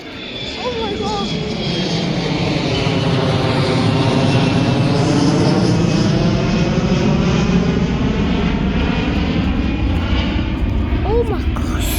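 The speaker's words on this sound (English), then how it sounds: "Airplane's coming!" An airplane flying low overhead, a loud sustained engine roar that swells and holds for the whole stretch, with excited voices and laughter over it.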